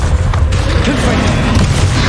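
A Confringo spell blast in Hogwarts Legacy, fought against Ranrock: a thick, rumbling boom with a few crackling hits, loud and close, filling the short stretch without a clear gap.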